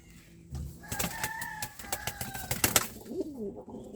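Tumbler pigeons coo in short throaty bursts close by, with a brief flurry of clatter and wing noise in the middle and no talk.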